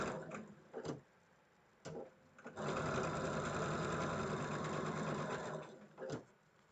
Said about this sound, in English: So let's sew our pairs together.